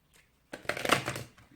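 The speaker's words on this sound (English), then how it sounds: "Oh, look, it's so easy to shuffle." A deck of oracle cards is shuffled briefly up close, a soft riffling burst lasting about a second, faint and alone.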